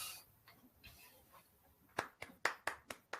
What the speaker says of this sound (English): Just me clapping, I'm afraid.